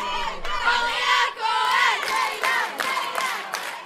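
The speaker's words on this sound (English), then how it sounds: "The crowd is going wild." Rows of family members and classmates shout and cheer loudly for nervous teenage contestants on stage at an Israeli international Bible competition, a wild, sustained roar of voices with excited cries rising and falling.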